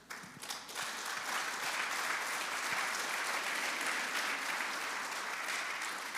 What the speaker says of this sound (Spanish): Y tenga cuidado que si ese aplauso no es auténtico